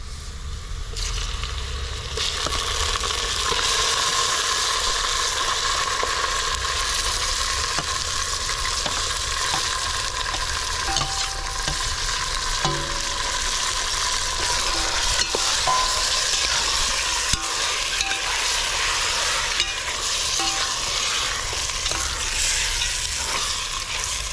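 Marinated mutton tipped into pink-browned onions and fried over a wood-fired chulha, sizzling loudly and steadily while a spoon stirs and scrapes the pan with irregular clinks, no talk.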